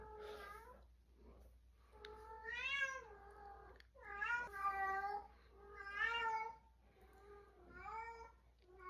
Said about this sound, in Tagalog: Ang galing na pusa.